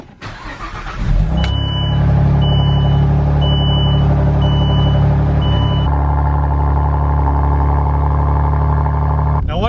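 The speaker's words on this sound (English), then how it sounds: "let's go ahead, get that nice little cold start" A Saab 9-3 Turbo X cranks briefly and catches on a cold start, its engine flaring to a loud, steady high idle close by, with a chime beeping several times during the first seconds and the idle settling slightly lower afterward.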